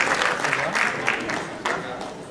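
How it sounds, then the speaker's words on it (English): An audience at a real estate conference session breaks into applause and cheering, dense clapping with a few sharper bursts, fairly close and loud, tapering slightly as it goes on. "But for now, huge cheer."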